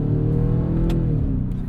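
A 2024 Ford F150 Raptor R engine growls in manual mode, a deep, steady, close rumble with rich low-end throb held throughout.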